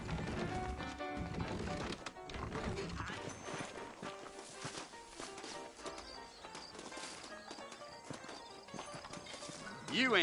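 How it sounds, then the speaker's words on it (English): Saddled horses in a Western video game set in New Austin, with hooves clip-clopping and a whinny heard among music and game sounds, fairly close. "I got the horses saddled up and ready out front."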